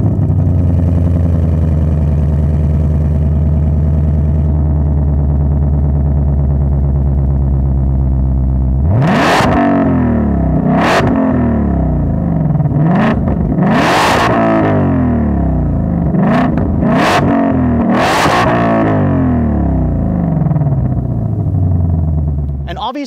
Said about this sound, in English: I'll let you guys listen to that beautiful V8 real quick